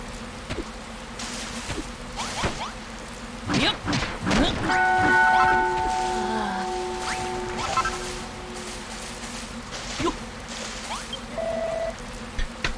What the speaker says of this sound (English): Let's just ring the bell.